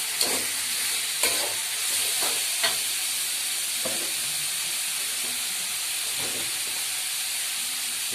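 Bitter gourd (pare) tossed into a pan with salted fish and stirred, giving a steady close sizzle and hiss with a few sharp scrapes and knocks of the utensil spaced through it.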